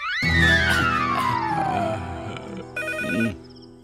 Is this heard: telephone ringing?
yes